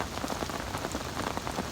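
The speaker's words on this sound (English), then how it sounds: "Only thing I have to persevere with is this rain" Steady rain pattering on a river while fishing for barbel on the Wye, a dense continuous patter of close drops with no voices.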